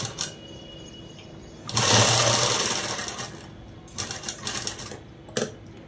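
Sewing machine stitches a long frock in bursts, a close, fast mechanical rattle running for over a second, then shorter stop-start runs of whirring with quiet gaps between.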